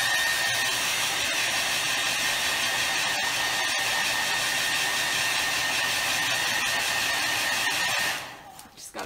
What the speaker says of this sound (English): I have my favorite thing here, the hair dryer, just to dry this real quick.